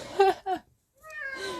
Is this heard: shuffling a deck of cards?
no